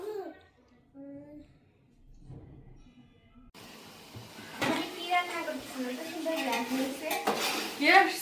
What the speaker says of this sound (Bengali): এগুলা মুরগির মাংস কষানো হইতাছে